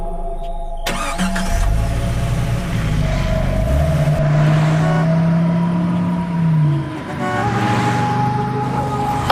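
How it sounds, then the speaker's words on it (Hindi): Car engine idling and revving as the vehicle is driven further in, loud and close, with a rising and falling motor tone and brief higher tones over a steady rumble. "अंकुर गाड़ी थोड़ा और अंदर ले जाता है।"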